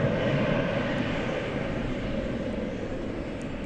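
A UPS heavy cargo jet at DFW Airport at night, a constant broad engine roar, loud and steady, without any talking.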